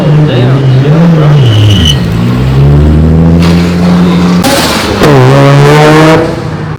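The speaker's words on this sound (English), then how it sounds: "I guess all the Mustangs are leaving" Ford Mustangs rev and pull away from a crowded car meet, loud engine notes rising and falling close by, with a sharp burst of acceleration toward the end and people talking underneath.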